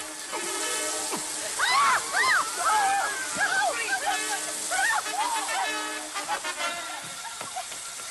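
A garden hose sprays water in a steady hiss behind excited voices talking over it.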